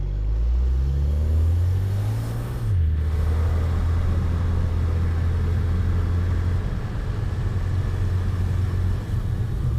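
Tuned BMW 335 engine pulling on a wet road, a loud continuous low drone that climbs in pitch, drops at a shift, then holds steady under constant tyre hiss, with no voices.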